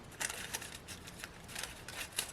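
Scissors snip printed deli paper artist trading cards, trimming away excess in a quick series of short, crisp cuts close by with no talking.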